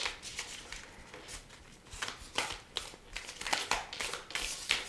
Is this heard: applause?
no